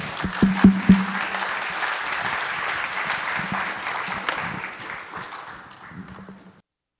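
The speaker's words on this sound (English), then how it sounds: "Let's give a nice round of applause for Ian." Audience applause at an IEEE VIS 2022 conference session in Oklahoma City, a dense steady wash of clapping from a seated crowd that holds for about six seconds and then fades out.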